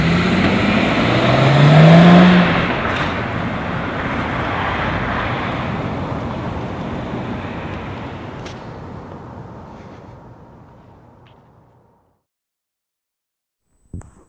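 A car pulls away hard, its engine revving loudly up close and then fading steadily over several seconds into near silence, followed by a sharp brief knock at the end.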